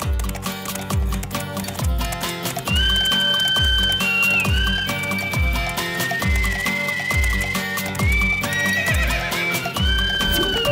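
A horse's hooves clip-clop in an even, repeating rhythm while tonal whinny-like cries rise and fall above them, all over a dense musical backdrop in a dubbed Hindi film scene.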